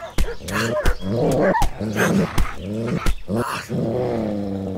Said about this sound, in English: How many freaking dogs have they got?